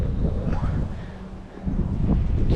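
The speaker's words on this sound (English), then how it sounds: "the wind's going a bit crazy" Strong wind on a hilltop near Cruz del Cerro Gulutren in Chile buffets the microphone in loud, gusty roaring bursts that dip briefly before surging again.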